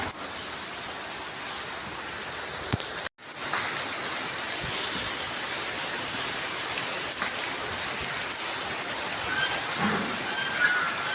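Steady rain pours down in a dense, constant hiss with drops pattering on surfaces, broken only by a brief cut partway through.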